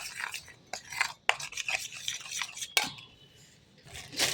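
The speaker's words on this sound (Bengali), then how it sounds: "এবার জল দিয়ে ভালো করে এটাকে একটু গুলে নিচ্ছি।" A spoon scrapes and knocks around a pot while a curry mixture is stirred after a splash of water is added. The metallic scraping and clinking come in irregular close strokes with brief pauses.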